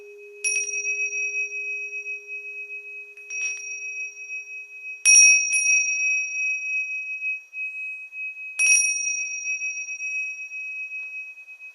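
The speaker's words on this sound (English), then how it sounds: "I'm gonna play some bells from Nepal." Small bright Nepalese bells struck four times at uneven intervals, each strike leaving a long, clear ringing tone that lingers and slowly fades, close and alone.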